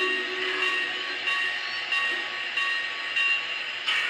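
A bright, steady clanging bell from a Lionel VisionLine Big Boy 4019 model train rings at an even pace over a low mechanical hum, with no one speaking.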